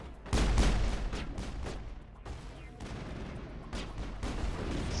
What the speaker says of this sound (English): Let's throw a grenade down there.